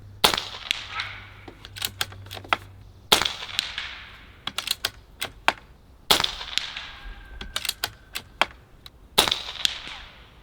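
Sharp, repeated shots from a Barra 250z air rifle fired at targets outdoors in a backyard, about a dozen crisp cracks spread unevenly over ten seconds, each followed by a brief ring or impact, with no talking.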